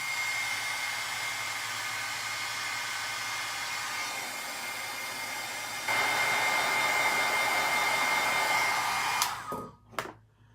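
A heat embossing tool blows hot air over stamped words on a scrapbooking project, a continuous loud whoosh that steps up in strength midway, then cuts off with a couple of short bursts at the end.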